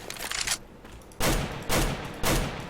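AK rifle gunfire in the video game CS:GO, a rapid burst of shots at the start, then three loud separate bursts after a short pause, each sharp and booming.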